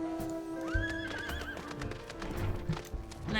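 Horse mount in Final Fantasy XIV gives a clear rising-and-falling whinny with clip-clopping hooves beneath, near and fairly loud, lasting a few seconds.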